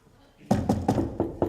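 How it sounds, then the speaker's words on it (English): Someone knocks on a door on a school theatre stage during a production of The Wizard of Oz, rapping five times in a quick, even rhythm. The knocks are sharp, close and clearly audible, and nobody is talking. "Please knock."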